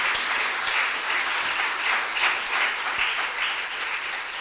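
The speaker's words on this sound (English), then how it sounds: "I need you to applaud the positive young people in this country" A crowd at a mentorship launch claps steadily, a thick, even roar of applause sustained throughout without speech on top.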